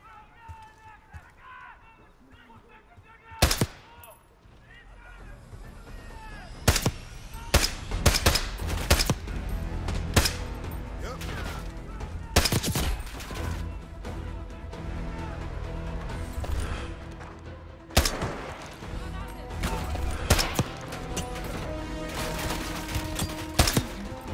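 Gunfire in the video game Call of Duty Black Ops 6, with sharp isolated shots and dense bursts of automatic fire over background game sound, while players talk over the action.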